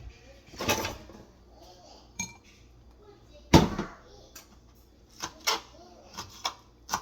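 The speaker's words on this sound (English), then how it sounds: "so I'm just gonna be chopping off one pepper" A knife chopping a Scotch bonnet pepper on a board, several sharp irregular knocks with clinks of kitchenware and faint talk in the background.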